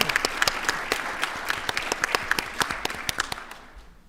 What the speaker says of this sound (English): I would love to give you a big round of applause